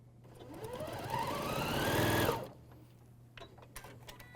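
An AirThread 2000D serger stitches across a folded facing on a bathrobe hem, its motor whirring steadily and rising in pitch for about two seconds before cutting off, followed by faint clicks of handling.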